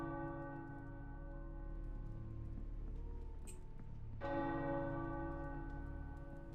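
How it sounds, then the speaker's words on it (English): A church bell rings in the Marvel's Midnight Suns video game, a faint, steady resonant tolling with sustained overtones and a fresh strike partway through, heard alone. "That bell again."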